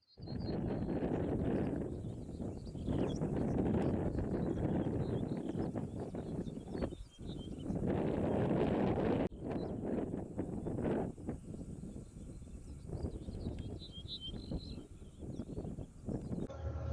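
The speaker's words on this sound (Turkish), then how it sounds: "Çok şiddetli rüzgar var" Strong, gusty wind buffets the microphone outdoors, a loud continuous rumbling roar that surges and drops over the length, with no voices.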